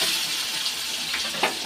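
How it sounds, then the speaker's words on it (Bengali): Potatoes, some small ones unpeeled, frying in a pan with salt and turmeric, giving a steady close sizzle with a few brief stirring scrapes and no talk. "আলুটা ভাজা হয়ে গেছে।"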